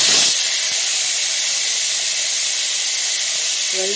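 A loud, steady sizzle of tomatoes hitting hot oil, a sharp burst at the start settling into continuous hissing frying.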